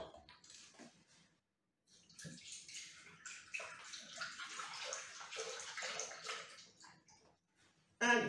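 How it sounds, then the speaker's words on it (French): Milk, 500 g of it, is poured into a Thermomix bowl with a faint, steady trickle and gurgle lasting several seconds, followed by a sharp knock at the end. "on va commencer par mettre 500 g de lait dans le bol du Thermomix"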